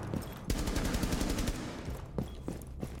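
Gunfire in Rainbow Six Siege, a rapid automatic burst of loud close shots followed by a few scattered single shots, all sharp and punchy.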